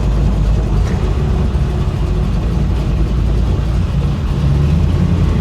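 A 1966 Chevy Impala engine idles with a steady, loud, low rumble that stays constant, heard from inside the car.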